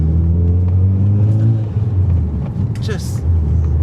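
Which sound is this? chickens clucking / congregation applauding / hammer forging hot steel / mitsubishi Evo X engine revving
mitsubishi Evo X engine revving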